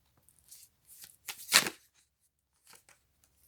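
Playing cards being shuffled in a few short bursts, the loudest near the middle, with quiet gaps between and no talk.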